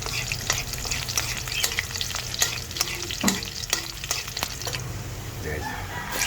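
Garlic fries in a pan with a busy, crackling sizzle, broken by repeated clicks and scrapes of a spatula stirring, close and steady throughout without speech.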